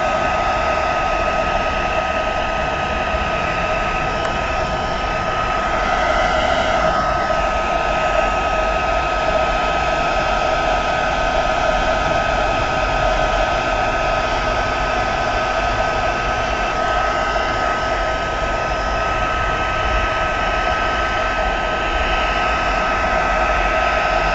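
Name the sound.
hair dryer drying paint on a craft project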